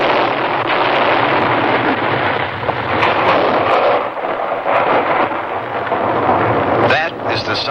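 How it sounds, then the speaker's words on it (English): Avalanche-control artillery fired by a United States Forest Service team in the Colorado Rocky Mountains, heard as a loud, sustained rumbling roar of booms and echoing thunder-like reverberation with no talking. "That is the sound of a United States Forest Service artillery team clearing an avalanche in the Colorado Rocky Mountains."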